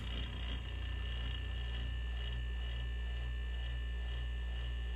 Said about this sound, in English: the fridge didn't sound like that.